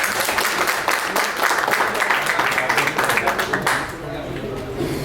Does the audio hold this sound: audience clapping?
yes